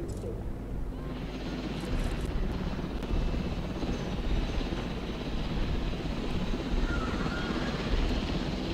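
A helicopter in the video game Jurassic World Evolution makes a continuous rotor and engine drone, loud and steady throughout, with faint game sound effects mixed in.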